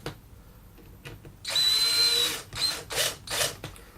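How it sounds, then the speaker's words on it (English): An electric drill whirs up close in a sustained burst, then gives a few shorter revving pulses as it drives screws into a canvas frame. "Get my drill."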